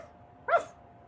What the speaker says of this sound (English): Dog disagreed, barking and pulling at the end of his rope.